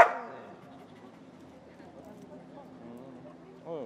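A municipal police dog in Monthey gives one sharp, close bark at the start, then low whimpering and whining sounds continue faintly before another short yelp at the end.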